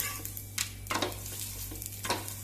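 Papad frying in a little oil gives a soft, quiet sizzle with a few short crackling scrapes at intervals over a low steady hum, with no talking.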